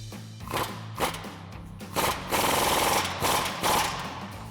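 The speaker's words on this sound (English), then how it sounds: "now we'll go ahead and add in our 21mm wrench with our 21 socket and impact" Impact wrench with a 21mm socket tightening a bolt during a Jeep Wrangler JK lift kit install: several short loud rattling hammering bursts, close by, with a steady hum between them.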